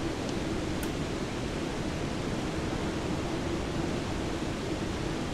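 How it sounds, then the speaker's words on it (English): A waterfall in the video game Citadel: Forged with Fire gives a steady, dense roar of rushing water, constant and unbroken with no voices. "This little secret waterfall area."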